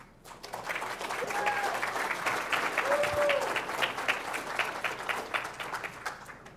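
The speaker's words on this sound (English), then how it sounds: "Let's give Dean a round of applause." Steady applause from a conference audience after a speaker is introduced at a technical talk, sustained broadband clapping for several seconds that tapers slightly toward the end, with a faint voice briefly audible beneath.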